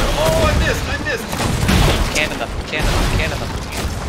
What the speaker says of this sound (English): Cannon them. Yeah, cannon them. Keep on the cannons, boys.